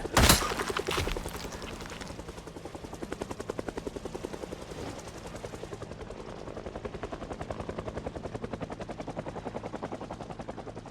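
A helicopter circles overhead in the zombie survival game Project Zomboid, its rotor thudding in a rapid, even pulse that stays steady and moderately distant after a sharp burst at the start.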